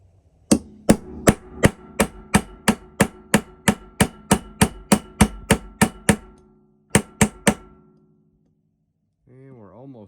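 A steel-headed gunsmith hammer strikes a brass punch during AR-15 lower receiver assembly: about eighteen sharp metallic taps in a steady quick rhythm, a short pause, two more taps, then silence and a brief faint tone.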